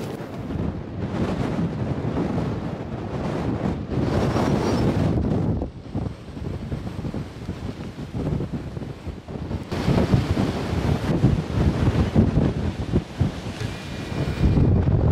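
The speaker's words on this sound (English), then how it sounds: "It's so windy here, but only in gusts." Gusty wind outdoors on a snowy road in Svalbard during the polar night, with heavy microphone buffeting that comes in strong bursts, drops briefly to a calmer lull, then roars back louder.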